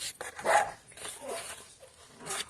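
A dog barks a few times in the background, faint and somewhat distant, with irregular gaps between the short yaps.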